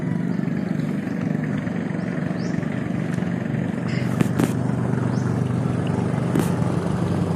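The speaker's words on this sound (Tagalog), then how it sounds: "Bangkang di motor." A motorized fishing boat runs on a wide, deep river, producing a steady mid-distance engine drone that continues throughout, with a few faint sharp noises over it and no talking.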